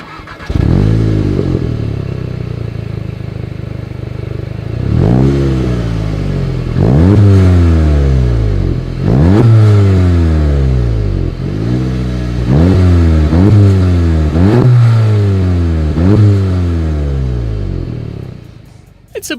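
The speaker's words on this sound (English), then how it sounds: "As always, here is that exhaust clip." A 2020 Volkswagen Golf GTI revs repeatedly through its dual exhaust tips, a series of loud rising and falling engine blips after a brief idle, close behind the car with no talk.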